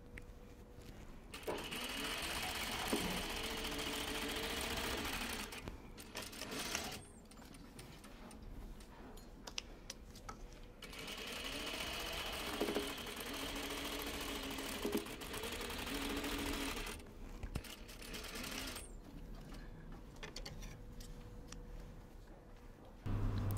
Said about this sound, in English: Next, I'll stitch the second detail at the back.